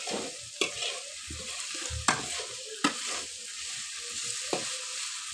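Spices frying in a pan for a soybean, paneer and potato vegetarian curry, with soft sizzling and several sharp scrapes of a spoon stirring through the mixture.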